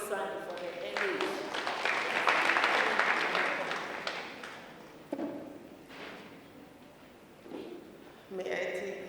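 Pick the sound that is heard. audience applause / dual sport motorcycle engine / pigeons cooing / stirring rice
audience applause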